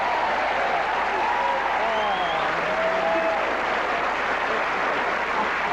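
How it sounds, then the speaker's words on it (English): A TV game show studio audience applauds steadily throughout, dense clapping filling the space with a few faint whoops or whistles over the top. "How about a big round of applause?"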